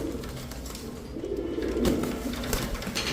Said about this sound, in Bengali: অনেক ছটফটে কবুতর।